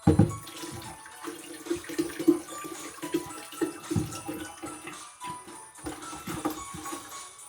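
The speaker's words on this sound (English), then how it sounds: "I'm gonna pour the whole bottle in." A whole bottle of red label wine gurgles and splashes steadily into a batch of Jamaican-style sorrel, a continuous close pour with uneven glugging and no voices.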